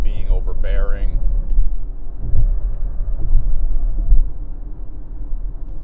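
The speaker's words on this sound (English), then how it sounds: "It's just enough engine noise without it being overbearing." A 2025 Lexus NX 350 F Sport engine hums as a steady, low rumble while the car cruises at about 40 mph, with a brief voice near the start.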